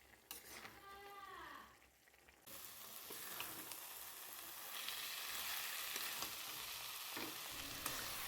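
Bottle gourd and shrimp cook in a pan while being stirred, giving a steady sizzle with scraping strokes; near and fairly loud after a brief quieter start, with no talking.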